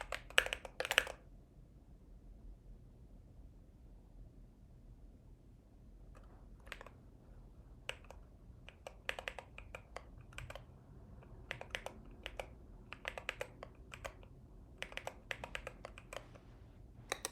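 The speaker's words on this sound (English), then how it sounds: "let me finish typing what I'm typing here." Typing on a computer keyboard during a programming session, a quiet stretch followed by irregular bursts of close key clicks that grow denser and steadier toward the end, with no talking.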